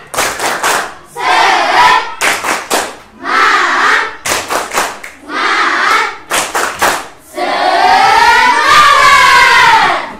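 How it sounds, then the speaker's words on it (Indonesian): A school class performs a spirit clapping chant, with bursts of sharp, rhythmic group claps alternating with loud shouted chanting in unison, ending on a long sustained cheer. "Nah, tepuk semangat."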